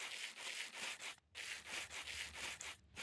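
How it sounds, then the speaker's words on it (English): Rose quartz rubbed on sandpaper in the Minecraft Create mod gives a repeated rhythmic scraping, about a dozen short sanding strokes with two brief pauses, fairly faint. "put your sandpaper in one hand, you want some rose quartz in the other, and you basically just want to right click"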